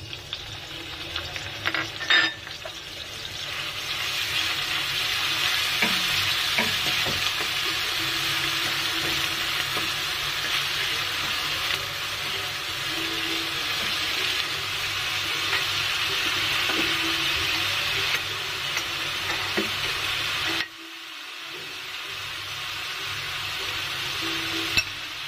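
Onion paste frying in about a tablespoon of hot oil in a wok, a steady loud sizzle running throughout with occasional stirring scrapes, briefly dropping out near the end before resuming.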